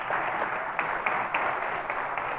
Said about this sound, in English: Can we clap it up for them?